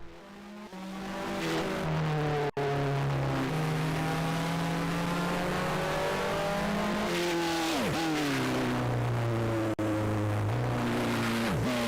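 Formula 1 race cars in the Grand Prix 2 video game at the 1989 Australian Grand Prix, a steady high-revving engine drone with pitch rising through gears and sharp downshifts, other cars whooshing past, loud and continuous.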